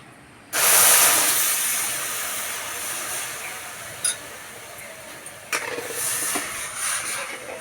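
Jaggery and sugar dissolved in water hit a hot wok with a sudden loud hiss that slowly fades into a softer sizzle, with a couple of brief clinks near the end.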